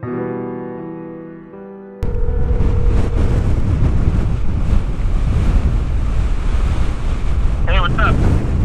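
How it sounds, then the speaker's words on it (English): Strong wind buffeting a microphone outdoors, a loud continuous rumbling roar that cuts in abruptly after a quieter opening and persists, with brief voice fragments near the end. "It's kind of windy, like really windy."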